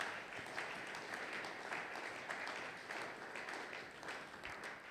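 A church congregation applauds during a Sunday praise and thanksgiving service, sustained dense clapping at a steady level from start to finish with no clear voices over it.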